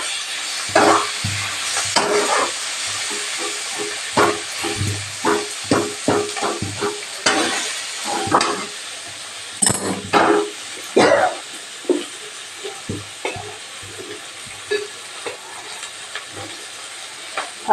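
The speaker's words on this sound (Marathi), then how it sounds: "मी दोन पळ्या तेल टाकले आणि परतून घेतलं" Chilies frying in two ladles of oil in a pan, a loud bubbling sizzle near at hand broken by repeated clattering stirs and scrapes, rising in bursts, no one talking.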